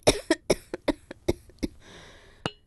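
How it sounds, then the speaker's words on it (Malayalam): A fevered person coughing in a run of about seven harsh, close bursts over a couple of seconds, followed by a breathy pause and one final cough. "ഈ ചുമയാ സഹിക്കാൻ വയ്യാത്ത"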